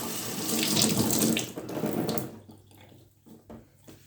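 A tap gushes loudly into a sink as someone rinses off during a wet shave. The rush lasts about two seconds, then the flow is cut and a few drips and splashes follow.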